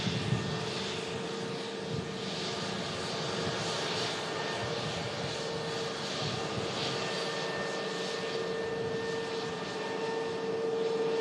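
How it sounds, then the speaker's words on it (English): A Jet2 Airbus A321 arrives at Manchester Airport, its engines a steady, fairly distant roar that holds at an even level throughout. "See one of the newer 321 aircraft of Jet2 at the back of the shot there,"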